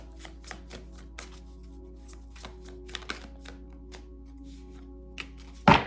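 Tarot cards being shuffled by hand, a run of crisp riffling taps and flicks spaced irregularly, close and fairly quiet, ending in a sharp louder knock, with no talking.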